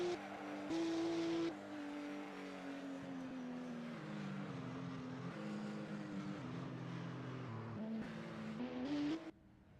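Porsche Cup race cars rumble through a victory lap at the Swedish Grand Prix, their engines holding a steady droning note that rises and falls with gear changes as they pass at moderate distance.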